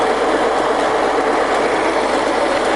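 Kearns OB horizontal borer, a used machine tool, running with a steady, loud broadband mechanical hum and whir that holds constant throughout, with no voices.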